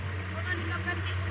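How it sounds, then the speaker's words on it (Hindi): A Sonalika 35 tractor engine runs with a low, steady droning hum. Someone talks over it. "सोनाली का 35 ट्रैक्टर है जी भाई"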